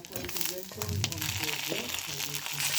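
Onions sizzle steadily as they fry in a little oil for omena, a Kenyan small-fish dish, loud and close, while a voice speaks over the frying.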